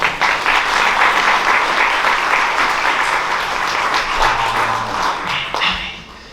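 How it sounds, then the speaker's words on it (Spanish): A church congregation gives a loud, sustained round of applause after a sermon and prayer, dense clapping filling the room and tapering slightly near the end. "¿Puedo dar un fuerte aplauso?"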